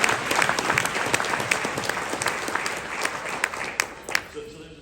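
An audience at a union talk on wildland firefighter pay claps together, dense sustained applause that fades out over a few seconds, with a voice briefly audible at the end.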